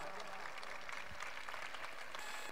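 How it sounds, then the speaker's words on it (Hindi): An audience at the Vidharbh Trishakti bhajan festival in Akola claps for a guest singer from Udaipur, a faint, steady wash of many hands applauding at a distance. "अरे अकोला वाली तालियां बजाओ"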